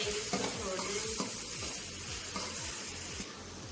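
Onions cooking in a covered pan with a little salt give a steady, continuous sizzle and frying crackle close by, with faint stirring and scraping sounds throughout and no talking.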